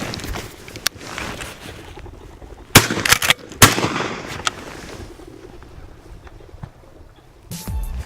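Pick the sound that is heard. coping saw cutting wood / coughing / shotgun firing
shotgun firing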